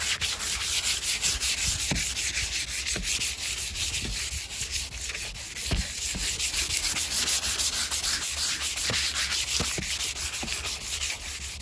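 Steady hand sanding of sun-damaged, cracked car paint in a crisscross X pattern, a continuous close rasping scrub with faint irregular ticks, no voices.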